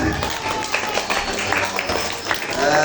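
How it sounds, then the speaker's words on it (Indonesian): Audience applause at an Islamic gathering marking Isra Mi'raj and a haul commemoration, rewarding a correct quiz answer; scattered clapping runs throughout under voices and crowd murmur. "Masya Allah, tepuk tangannya."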